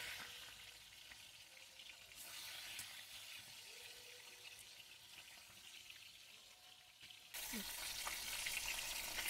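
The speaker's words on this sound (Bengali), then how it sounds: "এবার আমি মাছগুলো এক এক করে তেলে ছেড়ে দেবো।" Katla fish frying in hot oil in a wok, a steady soft sizzle that swells sharply louder near the end as more pieces go in, with faint clinks and no talk.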